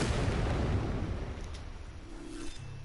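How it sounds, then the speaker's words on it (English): Cannons in the Trailmakers building game, mounted on a built M50 Ontos vehicle, fire in a rumbling, booming burst that trails off into lower-level rolling noise, with a couple of faint distant pops near the end. "That's how fast the cannons go."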